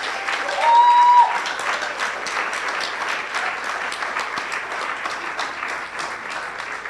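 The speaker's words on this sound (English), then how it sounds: "Please give a big round of applause." Applause for staff members at a New Year's Day celebration, a steady wash of clapping from a crowd, swelling briefly at the start then continuing evenly, with a short tone early on.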